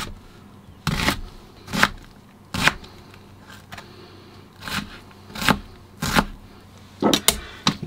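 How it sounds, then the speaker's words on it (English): A knife chops onion into small dice on a board for egg fried rice, about a dozen crisp, close knocks coming in uneven bursts, with quiet gaps between them. "just going to quickly cut into a small dice"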